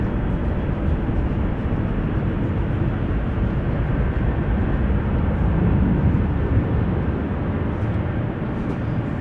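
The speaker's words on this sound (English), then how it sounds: "Ah, BizJet landing." A business jet lands at Amsterdam Schiphol Airport, heard as a continuous loud low engine roar and rumble that holds steady, with no clear voices over it.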